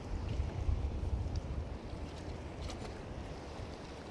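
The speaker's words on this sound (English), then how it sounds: "we've got the breakers out there" Low surf rolls onto the Holderness coast at Withernsea at low tide, a steady broadband wash of breakers out beyond the shallows, with wind blowing across the beach and no voices.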